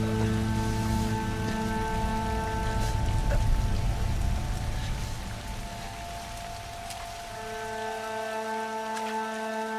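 Steady rain falling outdoors, a constant wash of patter that eases somewhat partway through, mixed with a low steady hum.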